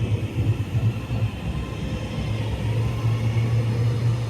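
A train leaves Motherwell station heading for Glasgow, a steady low rumble and engine drone that grows slightly louder and holds on a constant hum, fairly close.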